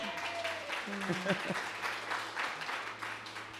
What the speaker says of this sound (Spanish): Un aplauso a ella